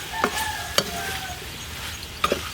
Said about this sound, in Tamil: அப்படியே நல்லா காயோட கலந்து விட்டுக்கலாம்.